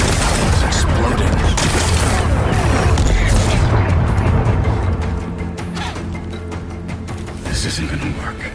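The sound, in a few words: explosion blasting rocks in video game Horizon Forbidden West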